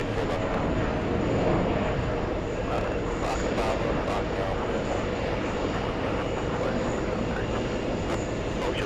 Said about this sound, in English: Delta 287 landing 30 minutes early.